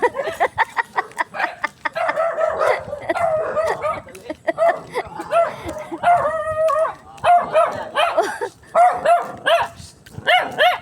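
A Great Dane out on a walk barks and yelps in repeated bursts, close and loud, with short whimpering tones between barks and some voices in the background.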